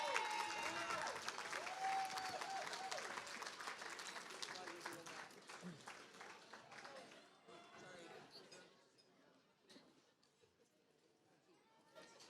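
Audience at a charity gala cheering and applauding, a dense, lively wash of clapping and crowd noise that gradually thins and fades toward the end, with voices mixed in.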